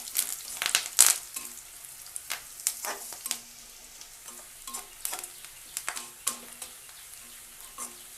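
Curry leaves fry in hot tempering oil for a drumstick sambar, crackling and sizzling with repeated scraping stirs in a pan, close and uneven, with no voices.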